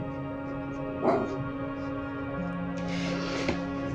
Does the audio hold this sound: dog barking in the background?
yes